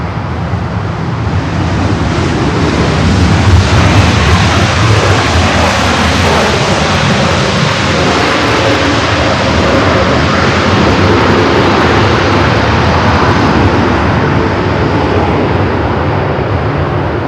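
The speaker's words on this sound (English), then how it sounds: "The Dreamliner about to touch down at 24 right" A Boeing Dreamliner touching down on runway 24 right at LAX, a loud, sustained broadband jet roar with a rushing, wind-like texture that stays strong throughout.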